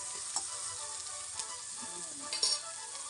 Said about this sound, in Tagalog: Naamoy ko yung tuyo ng prito niya.